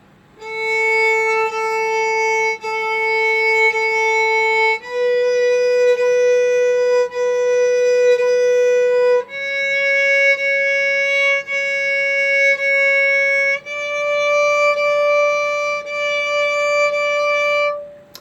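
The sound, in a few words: violin playing notes starting on open A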